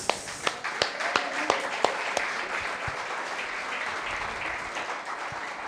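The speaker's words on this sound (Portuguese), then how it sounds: "Com palmas." A church congregation claps in praise, a burst of sharp hand claps in a loose rhythm that fades into sustained applause, moderately loud in a reverberant hall.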